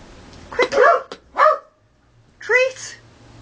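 A pet dog barks in short, sharp bursts around a home during treat training, a few loud yips in quick succession followed by a pause, then one more bark, heard close by.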